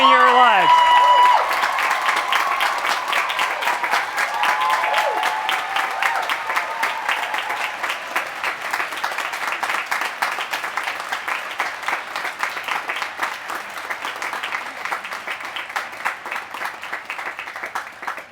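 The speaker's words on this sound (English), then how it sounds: "I want you to clap and cheer as loudly as you can for those women in your lives." Audience at a teaching excellence award ceremony claps and cheers for the women in their lives, a loud, sustained wall of applause filling the whole stretch with steady intensity.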